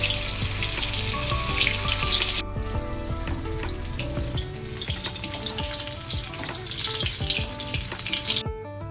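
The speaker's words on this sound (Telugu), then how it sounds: "ఇప్పుడు మనం వేయించుకుందాం." Bread bonda balls deep-frying in hot oil in a home kitchen, a steady dense sizzle and crackle running throughout at moderate level with no talking.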